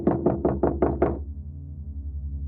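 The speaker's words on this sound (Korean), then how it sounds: "문을 두드리는 소리가 더욱" Six sharp knocks on a door land in quick, even succession, loud and close, then stop and leave a low droning hum underneath for horror effect.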